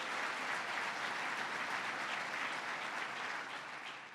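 A large State of the State audience gives a singer a round of applause, a thick, continuous wash of clapping that fades slightly toward the end.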